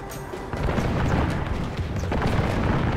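Dense gunfire crackles through a Medieval 2: Total War battle, with scattered pops and booms layered into a continuous rumbling din.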